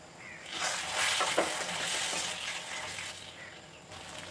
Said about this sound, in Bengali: জিরা পাউডার এবার এটাকে আবার একটু ফ্রাই করে নেব